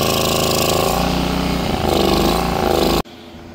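Small engine on a TMR mixer on a dairy farm, idling loud and close with a rough, uneven running note, then abruptly cutting out to silence in the final half second.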